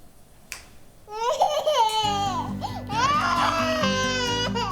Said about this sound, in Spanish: ¿No ves que está llorando?